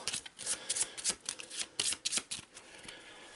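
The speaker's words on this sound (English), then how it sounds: "Which again, we'll give a quick shuffle." A deck of Eldritch Horror Mythos cards is shuffled by hand, producing rapid riffling bursts of crisp flutters and slaps in quick succession, close and clear with no talking.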